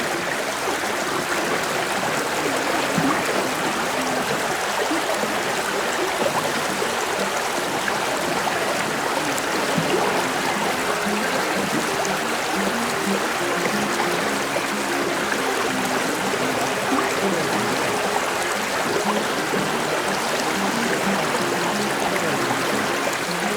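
A river in Konni, Pathanamthitta, flows in a steady, dense rush of water that stays loud and close throughout, with no voices.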